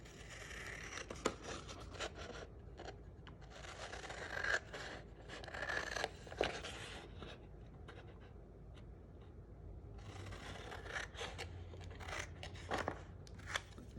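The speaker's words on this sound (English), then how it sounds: "we're gonna take our scissors again, and we're gonna cut" Scissors snip through cardstock for a handmade birthday card in quick clusters of crisp cuts, separated by short quiet pauses, close by and fairly soft.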